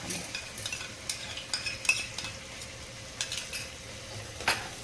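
Spice paste for katla fish kalia fries in the pan with a soft, low sizzle, punctuated by repeated clicks and scrapes of a spoon stirring it.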